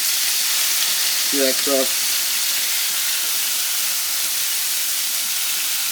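Beef burger patties sizzle in a cast iron pan, a steady, close, dense hiss that continues evenly throughout, while a person speaks briefly over it.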